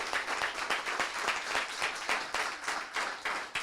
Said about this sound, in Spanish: si usted le puede dar un aplauso, déselo con fuerte